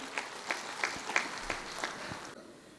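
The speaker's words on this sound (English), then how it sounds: "A round of applause for them." An audience at a district cabinet installation ceremony claps in short, spaced bursts of applause, about seven soft rhythmic peaks, fairly distant and thin rather than a full roaring ovation.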